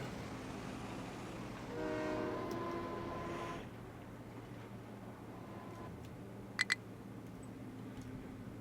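A copper-hauling freight train in the Captain of Industry video game sounds a loud, sustained horn blast over a low rolling rumble. Two sharp clicks follow a few seconds later.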